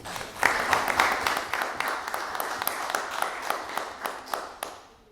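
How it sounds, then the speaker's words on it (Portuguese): Audience applause at a university panel on mental health and well-being, steady dense clapping from a hall crowd, moderately faint and distant, tapering off toward the end. "Mais uma salva de palmas para o João."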